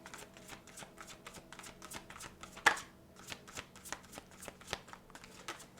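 Tarot cards are shuffled close by in a quiet room, with rapid riffling flicks and soft slaps in an even rhythm and one sharper snap near the middle.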